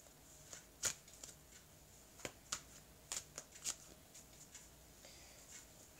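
Deck of cards being cut and spread out on a table, a series of soft, quick papery flicks and snaps with no talk over them.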